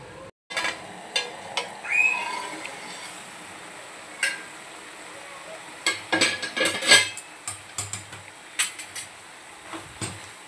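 Metal clatter and scraping of a lid being set on a kitchen pot of Hyderabadi-style mutton keema, a few sharp close clinks and knocks over a quiet room with no talk.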